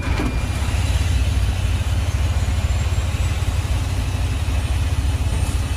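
A 2007 Western Star 4900FA truck engine idles steadily with a low, rumbling drone throughout, loud and close, with no talking.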